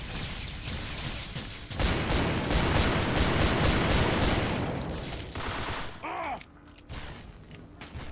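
Gunfire rattles in Fallout 3 during a battle at Anchorage, a long dense fusillade of rapid shots and mechanical clatter, louder in the middle, then thinning into a few scattered pops and creaks.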